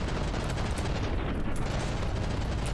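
Rapid, heavy cannon fire from CRAM guns aboard a warship in the naval combat game From the Depths, a dense continuous barrage of booming blasts without pause, loud and close.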